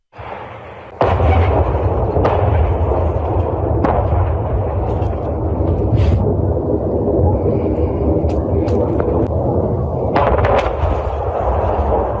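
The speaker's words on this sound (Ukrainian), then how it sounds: "дійсно чітко видно декілька вибухів, і чутно, і видно на цьому відео" Several heavy explosions boom one after another near Bryansk over a constant deep rumble, loud and reverberant, with sharp cracks scattered among them.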